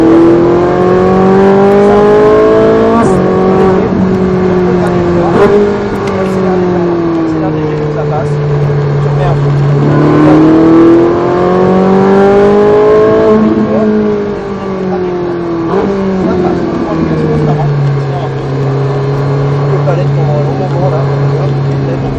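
A Ferrari 458 Italia V8 engine driven on a track, droning loudly and steadily while its pitch rises and falls with repeated accelerations and gear changes, with someone talking over it throughout.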